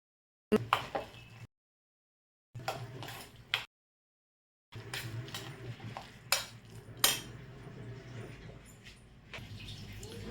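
Urad dal batter for vada is mixed with spices in a bowl, giving clattering utensil scrapes and taps in short bursts broken by silent gaps; the sounds are close and moderately loud, with no speech.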